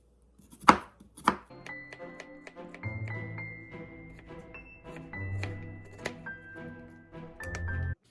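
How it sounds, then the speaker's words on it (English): Steady knife chopping of an onion on a cutting board, a run of quick, close, crisp taps with a couple of louder knocks near the start and no talking. "now I'm going to cut up my onion"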